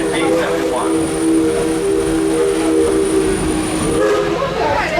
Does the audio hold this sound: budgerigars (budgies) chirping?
no